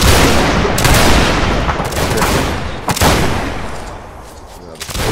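Massed musket fire rings out in a Napoleonic Wars battle game between Prussian and Austrian lines, with dense, overlapping gunshots and booming reports filling the whole stretch, a few sharper cracks standing out near the end.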